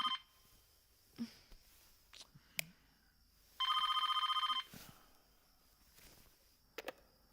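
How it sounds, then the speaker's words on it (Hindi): A telephone bell rings in a single trilling burst of about a second, fairly loud, between quieter knocks and shuffling footsteps. "फोन उठाओ ना"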